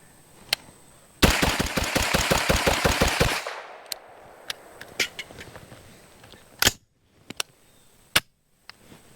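A rifle on an outdoor shooting range fires a rapid string of about fifteen shots, loud and sharp, followed by a few scattered single cracks and metallic clicks during reloading.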